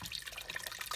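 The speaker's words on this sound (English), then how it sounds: "and also adding the broth" Broth pouring into a pot while making a creamy oat and vegetable soup, a steady close splashing trickle of liquid running through the whole moment.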